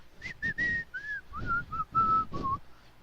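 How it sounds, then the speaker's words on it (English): Someone whistles a short tune, a series of clear, wavering notes with brief pauses between phrases, close to the microphone. "He was whistling."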